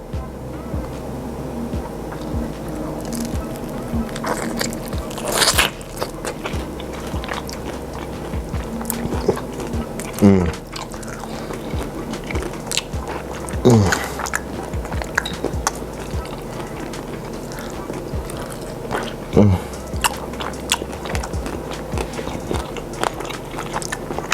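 Someone bites and chews into crispy buffalo honey chicken wings tossed in hot sauce. Several distinct crunches sound close to the microphone, spaced a few seconds apart over a quiet background.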